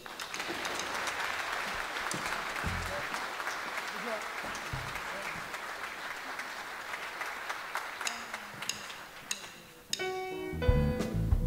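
Audience applause inside a church during a dance-band concert, a long steady wash of clapping that fades near the end before music and a voice come in.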